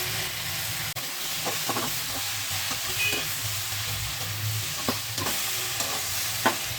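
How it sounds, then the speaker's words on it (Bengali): Salt and turmeric are stirred into sautéed radish and spinach in a hot pan, giving a steady sizzle with several brief scraping strokes of the spoon at irregular intervals. "নুন হলুদ দিয়ে ভালো করে মিক্স করে দিয়ে"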